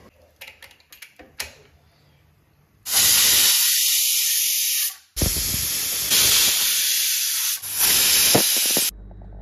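Water poured into a pan of sizzling spiced mutton curry with onions, producing loud, close bursts of hissing steam and spitting that surge in three long waves after some light clinks.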